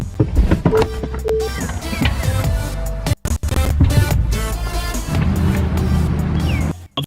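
A car accelerating toward a box with obstacle-aware acceleration active, with a loud, steady engine and road roar heard from inside, a couple of brief dropouts, and no talking.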